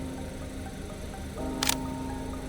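A Sony a6400 mirrorless camera fires its shutter once, giving a short crisp mechanical click over a quiet humming background.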